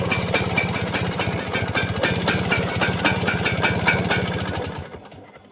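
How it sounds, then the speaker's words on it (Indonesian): A Vespa scooter engine with a faulty carburetor runs with rough, rapid knocking pulses, sputtering unevenly before cutting out near the end. "Vespanya ngok ngok ngok."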